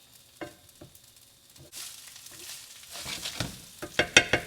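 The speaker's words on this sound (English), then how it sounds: "Mix it gently so rice doesn't break apart." Basmati rice with lentils being gently stirred in a pot, starting with a few soft scattered scrapes and building into busier rustling and clinking utensil strokes, close and fairly quiet.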